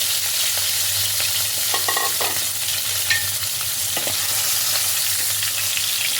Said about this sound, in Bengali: এবার আমি এই তেলের মধ্যে মাছের মাথাগুলো দিয়ে দেব। মাছের মাথাগুলোকে ভালোভাবে লাল করে ভেজে নিতে হবে।